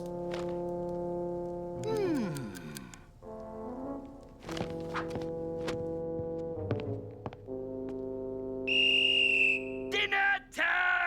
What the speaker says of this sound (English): The headmaster whistled and gave a loud shout